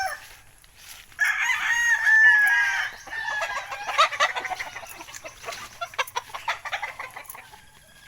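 A Beatles White gamefowl rooster crows clearly at close range, one drawn-out call followed by softer clucks and rustling in a quiet yard.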